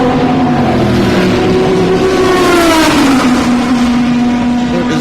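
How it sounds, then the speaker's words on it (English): A loud Corvette race car roaring past at speed, its engine tone holding steady and then dropping in pitch as it goes by, close and continuous with no talking. "You'll know when a Corvette comes by."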